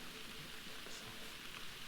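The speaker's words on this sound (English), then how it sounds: "God, the rain doesn't help." Steady rain falling in the video game Uchu, a dense continuous hiss that fills the whole moment evenly at a moderate level, with no voices over it.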